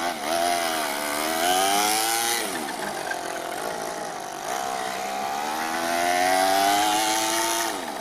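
A Toyan FS-L200 engine in an RC Ford F450 truck revs up and down in a buzzy, nasal drone, rising and falling in pitch over several sweeps, loud and close with no voices.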